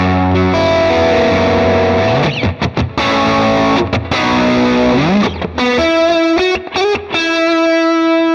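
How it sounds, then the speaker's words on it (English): An electric guitar runs through distortion on a Valeton GP-200 multi-effects unit, playing gritty sustained lead notes with bends and slides that ring loud and alone, ending on held, vibrato-laden tones. "and if I add a distortion,"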